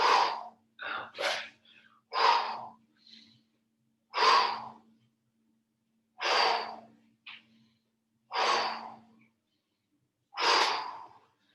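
Slow, deliberate exhalations during a yoga session for runners, about eight separate breaths spaced a couple of seconds apart, close and clear in an otherwise quiet room.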